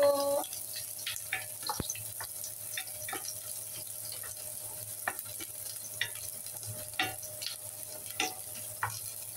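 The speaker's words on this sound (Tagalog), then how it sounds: "Gisahin na natin ang ating sibuyas bawang." Onion and garlic sautéing in a pan for string beans with coconut milk and sardines, a soft continuous sizzle with scattered clicks and scrapes of a spatula, moderately quiet with a faint background hum.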